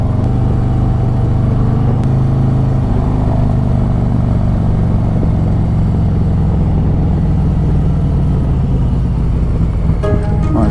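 A Harley-Davidson Road Glide with a Stage 2 setup and Khrome Werks Outlaw exhaust pulls hard, its deep, loud engine rumble steady and continuous throughout, close up and alone.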